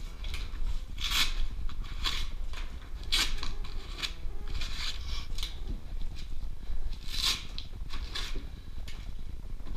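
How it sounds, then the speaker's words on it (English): Straps being pulled off a bundled high-rise fire hose, giving repeated short ripping and rasping bursts at close range in an irregular rhythm, with no voices. "Remove the straps."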